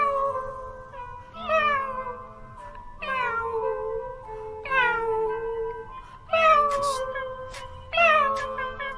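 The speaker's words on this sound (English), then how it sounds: "That's the cat" A cat meows again and again in a steady series of tonal, falling cries, close and clear, with no talk over it.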